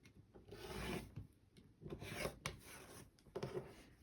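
Scissors or a rotary cutter trimming two sides of a fabric quilt block, producing soft, raspy cutting strokes in three or four separate bursts, close and fairly quiet, with no talking.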